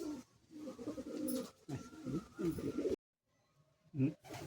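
Pigeons coo in low, throaty rolling calls close by, pausing briefly before one more coo; a voice is faintly present.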